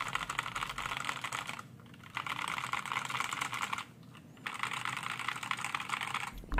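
Rapid typing on an Inplay NK680 65% mechanical keyboard, dense clacking keystrokes in three steady bursts separated by short pauses, close and fairly loud with no talking.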